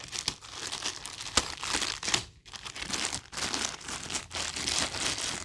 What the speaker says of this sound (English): It's in a little plastic bag.